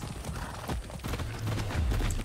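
Horse hooves clip-clop in Far Cry 6 as the horse is ridden at an easy walk, a soft and fairly distant rhythmic thudding under low game ambience.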